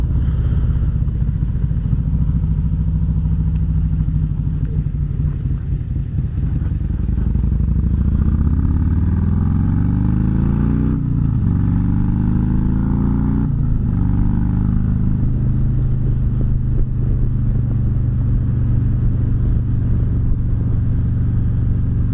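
Motorcycle engine droning steadily while riding on the road, a loud continuous rumble with rising and falling pitch as the rider shifts through gears, no voices.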